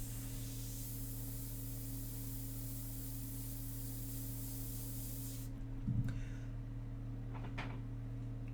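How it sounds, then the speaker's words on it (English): Airbrush spraying a dark India ink mixture for a portrait, a steady close hiss over a constant low hum, broken near the end by a few brief handling knocks. "So I fired up the second airbrush here, so I have the light mixture in the other one."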